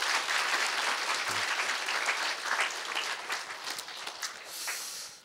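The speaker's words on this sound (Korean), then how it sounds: "우리 오늘 예수 영접한 분들을 위해서 박수 한번 하겠습니다" Church congregation applauding during a Sunday service, a dense, steady wash of many hands clapping together that holds for about five seconds before tapering off at the end.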